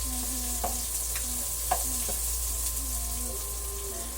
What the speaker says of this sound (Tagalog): Magigisa naman po tayo ng sibuyas, bawang at kamatis. Inuna ko po ang sibuyas.